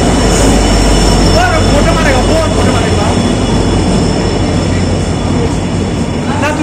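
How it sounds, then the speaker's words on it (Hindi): A train rolls into a station, a loud continuous rumble of wheels and carriages with brief wheel squeals, heard up close on a crowded platform while people talk over it. "ट्रेन आ चुका यार"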